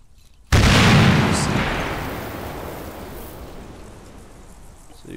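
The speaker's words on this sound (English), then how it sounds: "We can kill ourselves with a grenade here." A single loud grenade blast goes off in Arma 3, a sudden heavy boom followed by a long rumbling decay that fades over several seconds.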